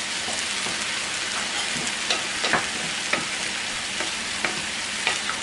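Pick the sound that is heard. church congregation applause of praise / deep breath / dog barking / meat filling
meat filling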